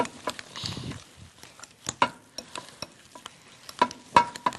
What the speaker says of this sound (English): You want to help me stir, Jody? Okay. Make sure you mix it up really good.